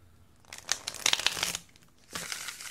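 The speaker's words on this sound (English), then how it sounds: "I think I've shuffled this damn deck enough." A tarot card deck shuffled by hand, papery riffling and crinkling bursts in two close runs separated by a brief pause, near and fairly clear with no talking.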